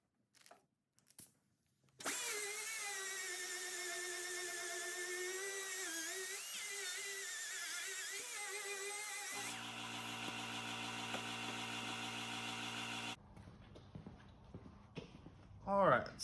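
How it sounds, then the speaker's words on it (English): An air compressor in a workshop starts up and runs with a loud steady motor drone and buzzing hum, then shifts to a lower tonal hum before cutting off, with a few knocks and clatters around it. "Air compressor kicked on."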